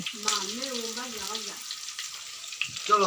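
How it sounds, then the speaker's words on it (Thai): Thin banana slices deep-fry in hot oil with a steady background hiss and crackle, while a voice talks and hums over the first half and again near the end. "วันนี้เราจะมาให้ดู การทอดกล้วยฉับ"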